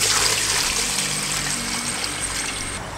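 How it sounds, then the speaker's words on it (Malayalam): Water scooped and poured over quail meat being washed in a village outdoor kitchen, a loud steady splashing trickle that runs continuously for a few seconds, close by with no talking. "വന്നിച്ച് വെള്ളം കോരി നമുക്കിന്ന് കഴുകിയെടുക്കാം"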